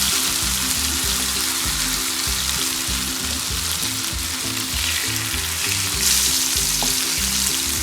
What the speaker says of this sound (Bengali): আমি এখন বেগুনগুলো উল্টিয়ে দিব। মাশাআল্লাহ দেখতে ভালো হচ্ছে। প্রায় 3-4 মিনিট ভাজলাম এক সাইড।